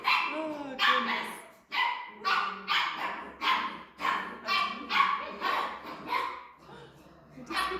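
Bernedoodle puppies in a nursery bark and yip in rapid overlapping bursts, steady and close throughout, with high whimpering yelps mixed in.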